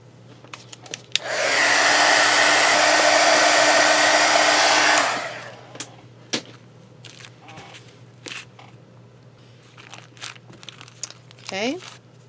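A hair dryer blows steadily for about four seconds while drying a freshly glued paper book cover, then shuts off, leaving faint crinkling paper handling and light rustles.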